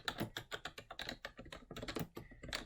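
Rapid typing on a computer keyboard while a value is entered into a console program, with a steady stream of close, crisp key clicks in an uneven rhythm and no talk.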